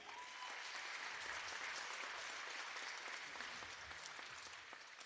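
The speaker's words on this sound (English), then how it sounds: "Please join us in giving these officials a round of applause for all they do." A crowd in a high school gym applauds the game officials at a girls varsity basketball game, steady broadband clapping sustained throughout and easing slightly toward the end.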